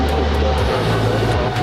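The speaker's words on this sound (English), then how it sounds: "That is American Airlines 136 departing to London Heathrow. It's a 777-300 ER." An American Airlines Boeing 777-300ER, heavy, departs LAX bound for London Heathrow, its engines giving a loud, close, continuous low rumble with a slight wavering pitch across a brief moment.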